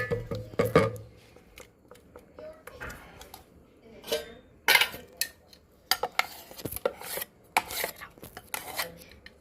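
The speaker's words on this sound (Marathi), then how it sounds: "ते आपण एका भांड्यात टाकून देऊ मिक्स दोन्ही मिक्स करू" Ground rice batter being mixed in a vessel: irregular scraping and clattering strokes of a utensil against the pot, close and fairly loud.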